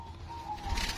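A perkutut zebra dove of the white Mojopahit line gives a brief, faint coo over a soft background hum.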